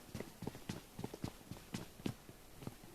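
Footsteps in PUBG Mobile on the Vikendi map, a quick run of close, evenly spaced thumping steps with a crunchy edge and no talk over them.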